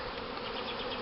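Honey bees buzzing around a cardboard swarm capture box in a back yard, a dense, steady drone of many wings close up, heard alone.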